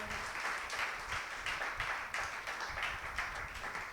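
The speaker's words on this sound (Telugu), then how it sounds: "దేవుని యొక్క సన్నిధిలో ఉత్సాహంగా ఉన్నవారు గట్టిగా చప్పట్లు కొడదామా?" Many worshippers at a Holy Mass clap hard together in a fast, even rhythm, a dense continuous wash of hand claps filling the whole stretch with faint voices mixed underneath.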